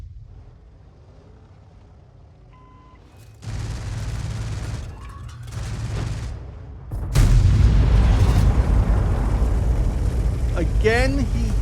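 Tank cannon fire in World of Tanks, with an Object 261 artillery piece in the match: a heavy boom erupts mid-clip over a constant engine rumble, followed by a louder, sustained blast and roar that carries to the end.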